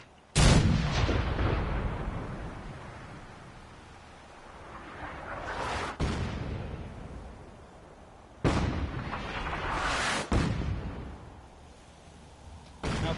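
Four or five loud, close gunshots crack out at irregular intervals, each followed by a long echoing decay that rolls off into the surroundings before the next shot.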